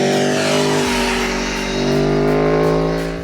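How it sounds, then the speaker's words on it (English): A 2016 Aprilia Tuono V4 1100 RR motorcycle's V4 engine holds a loud, steady, buzzing drone close by, with a slight rise in pitch partway through as the revs climb. "the Tuono definitely has the best sounding engine of the bunch"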